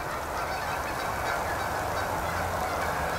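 A large flock of geese honks continuously in the wild, a dense, loud chorus of overlapping calls heard in the open with no talking.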